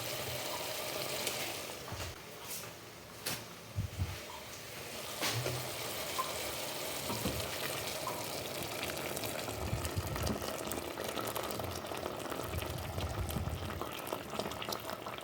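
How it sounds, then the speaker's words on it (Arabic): Chicken simmering in a pot with added water for a rice dish, a steady close bubbling boil with occasional louder pops and sizzles, no voices. "هنا غادي نسقيو هاد الدجاج ونخليوه كيطيب"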